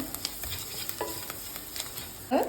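Salt being stirred into chopped chaya mansa greens in a cooking pan, with soft sizzling and scattered scraping stirs, then a sharper clatter near the end; no voices.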